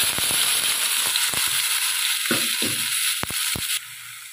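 Onions sizzle and crackle in hot oil after a tempering of asafoetida and cumin, a loud continuous frying hiss with occasional stirring clinks, ending abruptly as the sizzle drops away.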